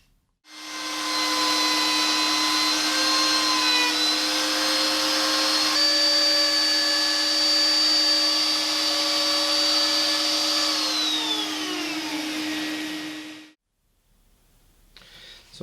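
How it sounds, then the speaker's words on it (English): A powered sander works on a Les Paul Junior style guitar, a loud steady whine that holds for about thirteen seconds. The pitch drifts slightly, then it winds down and stops, leaving quiet. "So it's just sanding."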